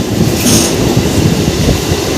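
A local commuter train runs from Howrah to Belur Math, its steady, loud rumble and rattling wheels filling the whole stretch with no voices.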